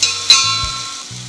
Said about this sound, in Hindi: 4 से 5 नीम के पत्ते, गार्लिक, अदरक और हरे मिर्च की पेस्ट 2 छोटी चम्मच मिक्स कर लेते हैं।